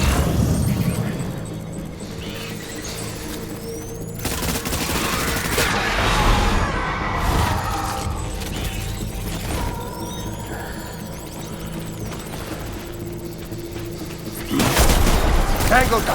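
Soldiers open fire in a combat scene in the video game Death Stranding Director's Cut. Dense bursts of automatic gunfire and scattered blasts sound close and loud, with a heavy burst near the end and game ambience in the background.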